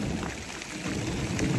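A brief burst of a heavy southern California thunderstorm, with dense rain noise and a low rumbling thunder wash filling the whole moment, loud and close, with no voices.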